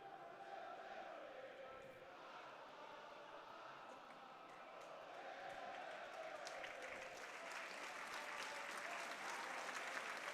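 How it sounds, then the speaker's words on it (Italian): A football crowd at a Serie D match between Prato and Trestina applauds a chorus, with sustained clapping in a large outdoor stadium. The applause swells and grows denser toward the end, distant and diffuse. "Gli applausi del pubblico che sentite sono per il coro del Proietti Zolla"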